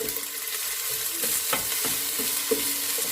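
Chopped onions sautéing in a pan for chicken arroz caldo, a soft continuous sizzle broken by several scraping stirs of a utensil, close and moderately quiet with no voices.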